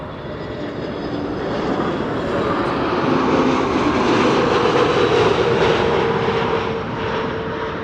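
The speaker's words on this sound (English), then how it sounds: "This is KM Malta, arriving from Malta. It's an A320neo." An Airbus A320neo arriving at Amsterdam Schiphol, a continuous jet engine roar that rises to a loud peak midway and then settles, heard alone without voices.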